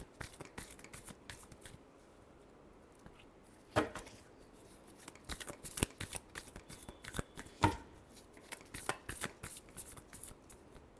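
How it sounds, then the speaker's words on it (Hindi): Tarot cards are shuffled by hand up close in soft, irregular riffles and taps. Clusters of quick crisp snaps rise and fall at a low level, with no talking. "Last shuffle."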